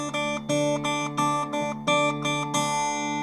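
Steel-string acoustic guitar playing a Travis-picking pattern with the melody in straight eighth notes, sounding as evenly spaced plucked notes over a steady alternating bass, close and clear with no voices.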